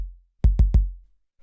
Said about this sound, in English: It's just like a little punchy, sort of chill, deep kick like this